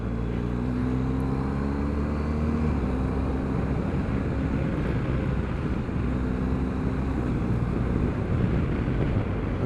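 A 2021 BMW R1250GS Rally SE accelerating in third gear: its engine note climbs twice beneath a constant, heavy roar of wind rushing over the rider's microphone.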